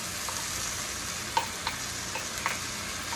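Red onions and crushed garlic frying in a pan, a steady soft sizzle with a few light stirring clicks, no talk.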